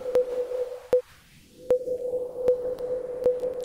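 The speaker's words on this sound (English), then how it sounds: "this will be a much smoother sine wave" A synthesized sine tone, smoothed with a logarithmic curve, holds a steady pitch with sharp clicks at regular intervals and a brief dip partway through, playing alone.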